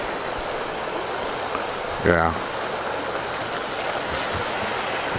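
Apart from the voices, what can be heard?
water gushing from a broken water main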